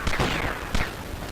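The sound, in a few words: pistol gunshots in video game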